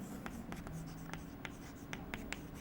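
Pen or chalk writing out a math solution for limits of two-variable functions, with brief scratchy strokes and taps at a steady close pace over a faint low hum.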